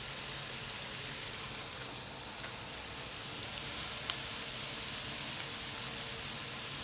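Onions, garlic and ginger sauté in a pan for beef papaitan, making a soft, steady hiss of frying with a couple of faint clicks, even in level and unaccompanied by talk.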